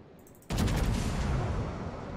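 Ship cannons firing in a naval video game, a sudden loud broadside boom followed by a sustained rumbling roar of gunfire.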